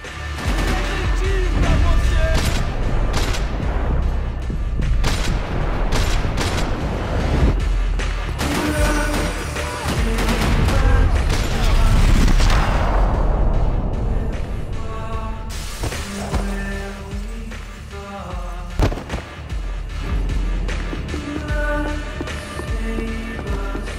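Grenade explosions and dense gunfire in the video game Max Payne 3, a loud, nearly continuous barrage of shots, booms and shattering glass with rapid bursts, and game music and effects underneath.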